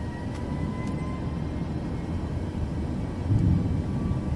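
Private jet in Microsoft Flight Simulator climbing away during a go-around, a steady low engine rumble and airflow roar at moderate level, with no talk over it.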